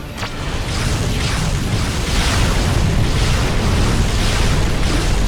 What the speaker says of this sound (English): The first artillery position is destroyed.